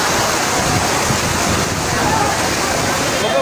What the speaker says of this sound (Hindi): पानी का तेज़गी इतनी है माशाल्लाह कि ये लोग अपने आप रगड़ते में जा रहे हैं